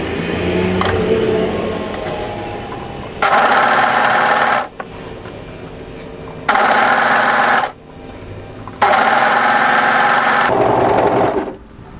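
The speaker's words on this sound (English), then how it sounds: "we want to overlock down around about 3 inches past that notch there" An overlocker runs in three loud, fast, whirring bursts while stitching the seam of a twist knot hem tee dress, with quiet room hum between runs and a brief stop near the end.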